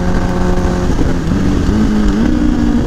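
A Kawasaki Ninja H2 motorcycle accelerating hard in third gear on a freeway, a loud, steady engine roar rising in pitch with rushing wind noise close to the rider.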